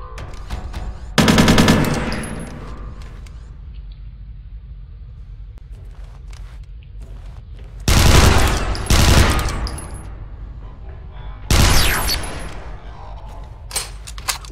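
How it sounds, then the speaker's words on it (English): Assault rifle bursts in the shooter game Interstellar Marines, three loud rapid-fire volleys separated by quieter stretches of ambient game noise, the middle burst longest and broken into two close strings of shots. "the assault rifle was coming in a little bit handy now that we're trying to engage at distances"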